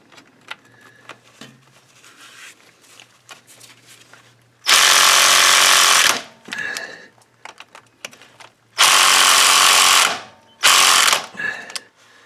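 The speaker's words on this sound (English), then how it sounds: "So the first one came off easily with this, but the other ones need to be broken free. So I'm using my ratchet here." Ratchet cranking loose the transmission pan bolts on a Ford F150, with three loud bursts of rapid clicking separated by quieter handling noises, close and with no talk.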